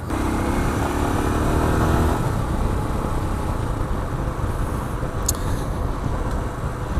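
A 2021 Royal Enfield Himalayan motorcycle on the road, its engine droning steadily and loudly with rushing wind noise throughout, and no voices.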